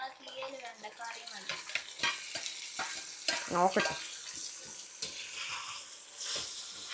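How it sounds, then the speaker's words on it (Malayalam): Prawns frying in oil left over from frying chicken crackle and spit in bursts, with stirring clatters and sharp pops scattered over several seconds, and a brief spoken word. "അതിലിട്ട് നമുക്ക് കൊഞ്ചിനെ വറുത്തെടുക്കാം."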